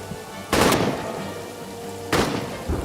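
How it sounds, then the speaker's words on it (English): Gunfire aimed at French troops in the trench-warfare game All Quiet in the Trenches comes as two loud bursts of shots over constant background battle noise. "let's shoot at French troop number 4"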